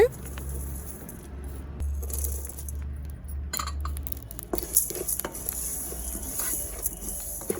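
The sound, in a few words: dry roasting cumin and black pepper in a pan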